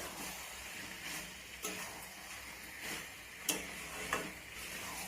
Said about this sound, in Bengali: তো এখন আমি এর মধ্যে ভেজে রাখা আলুগুলো দিয়ে দিলাম, দিয়ে আবার একটু আমি এইভাবে কষিয়ে নেব